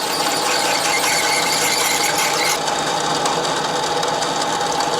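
A mini lathe threading a bung for an XLCH chopper while the bit is driven in, giving a steady loud metallic squeal and grinding whir that runs continuously, shifting slightly in tone midway.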